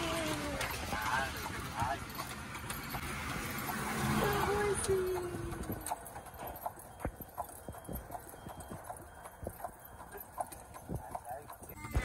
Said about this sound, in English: On the buggy ride, look the horse.